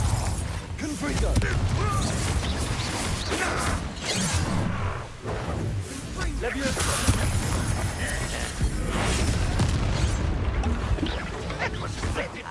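Spell explosions from Bombarda and Confringo in the video game Hogwarts Legacy, fought inside a mine, burst as repeated crashes, smashes and booms amid combat whooshes, with characters talking over the noise.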